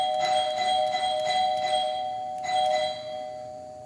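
A newly replaced household doorbell chime kit rings two clear ding-dong sequences, bright sustained bell tones that ring on and fade in a quiet room.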